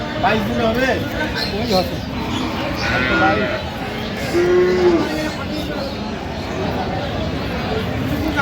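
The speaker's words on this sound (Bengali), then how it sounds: "গাভী বাছুর আমরা দেখছিলাম এখানে" Crowded rural cattle market in Dinajpur with dairy cows and calves for sale, a clear moo rising above a busy din of people talking and bargaining nearby.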